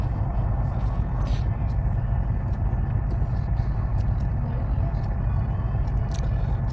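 Heavy truck engine straining as it climbs a hill in Truckers of Europe 3, a steady loud low rumble with an automatic gearbox, running continuously with faint scattered clicks over the top.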